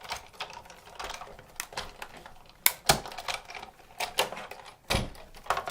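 Big Shot die-cutting machine pressing a tag die through scrap green cardstock, heard as quiet repeated mechanical clicks and cranking rattles in an uneven rhythm.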